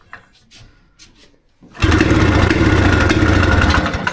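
After a near-quiet stretch with faint knocks, a Lada Niva engine kicks in and settles into a loud, close, steady low-rev running rumble with a clattery mechanical texture.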